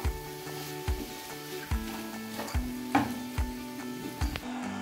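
Vegetables sizzle in ghee in a pot on the gas, a steady close frying hiss broken by repeated spoon scrapes and light metallic knocks against the pot, no voices.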